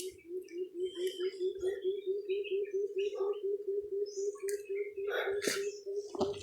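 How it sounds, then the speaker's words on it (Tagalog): Crows calling on a mountain outing, scattered caws and chirps over a steady droning hum, fairly close, with no talk. "Mga uwak."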